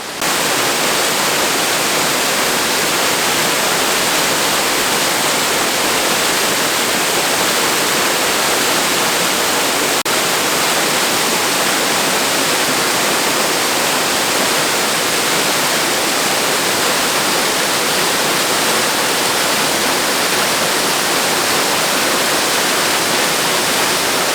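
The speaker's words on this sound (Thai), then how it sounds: "ตอนนี้เราเดินขึ้นมาถึงน้ำตกห้วยแก้วที่ชั้นสูงสุดแล้วคือชั้น3นะฮะ" The top tier of Huai Kaeo waterfall in Chiang Rai roars loudly and steadily as a dense, unbroken wash of rushing water heard from close by, with no voices.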